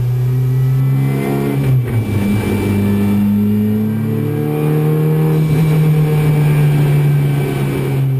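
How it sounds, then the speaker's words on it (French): A Renault Clio Cup race car on a wet track, its engine droning loudly with rising and falling revs through gear changes and a brief lift, heard from inside the car, steady and close, with no voices. "Allez, on s'ambiance un peu dans la Clio Cup de Jonathan."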